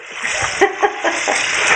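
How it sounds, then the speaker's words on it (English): Cold water runs from a kitchen tap with a steady splashing rush while an onion is cut, a few soft knocks breaking through; voices are faint under the flow. "Are we going to run the cold water so you don't cry with the onion?"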